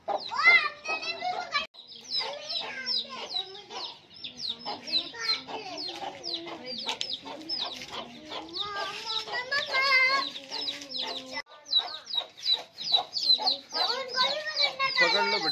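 Hens clucking and squawking close by, busy and overlapping, mixed with children's voices chattering and calling throughout.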